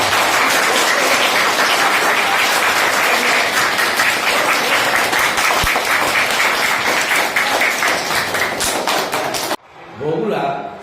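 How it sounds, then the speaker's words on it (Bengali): A school theatre workshop audience at Purbapara High School claps loudly and densely for about nine seconds, then the applause cuts off abruptly and a voice is heard briefly. "আরেকবার জোরে হাততালি হোক, এটা ক্যাপ্টেন হোক।"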